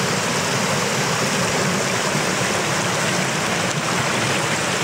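A river flows beside an old brick railway abutment wall, its broadband rushing loud, close and unbroken throughout, with no voices.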